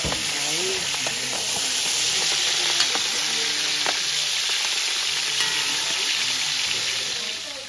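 Sausage sautéing in a pan, a steady broadband sizzle that fries continuously throughout with occasional soft stirring and clinks, close and fairly loud, no talking.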